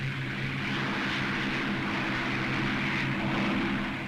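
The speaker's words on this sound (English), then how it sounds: "Throttle right forward, stick central. Ease her off the ground," The piston engine of a Spitfire fighter plane drones steadily and loudly as it opens up for take-off, a continuous propeller roar with a throbbing low hum. Nothing else is heard.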